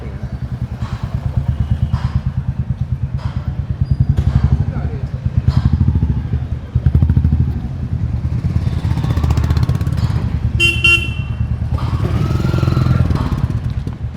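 A Royal Enfield Classic 350 motorcycle pulls in from a test ride at a service center, its single-cylinder engine thumping steadily nearby with some clatter, while people talk.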